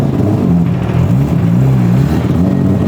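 Four-rotor Mazda RX-7 FD engine revving while stuck in traffic on Indonesian roads, a loud, close, deep rotary drone rising and falling in pitch over a few seconds, with no talking.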